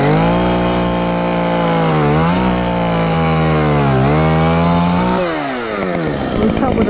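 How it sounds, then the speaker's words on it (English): A chainsaw cutting firewood runs loud and close, its engine pitch dipping and rising as it bites into wood, then bogging down near the end. "We cut with a chainsaw"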